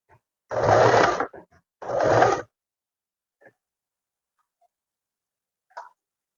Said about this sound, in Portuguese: com a máquina no ponto reto, a gente vai começar a costura fazendo o quadradinho aqui do bolso